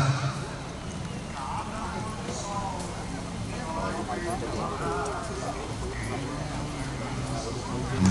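Horse hooves thud and clop across the arena at a reining competition during the 2013 Novo Hamburgo rodeo, with a commentator talking continuously over them.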